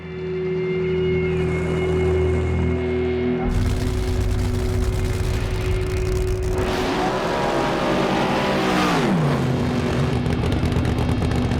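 A John Force drag racing car returns after a burnout, with a loud, steady engine roar throughout that swells into a harsh burst midway before settling.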